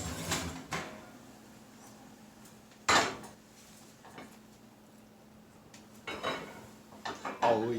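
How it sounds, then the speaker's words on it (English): A baking pot just out of the oven is handled in a kitchen while baking a loaf of bread: scattered metallic clunks and scrapes, one sharp knock midway and a cluster of clatters near the end, close with quiet gaps between. "We're taking the pot out of the oven now"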